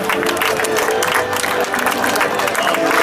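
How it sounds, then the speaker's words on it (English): Applause from a crowd at a Brad Byers stunt show, dense continuous clapping with some cheering, loud and sustained. "Feel free to applause in amazement."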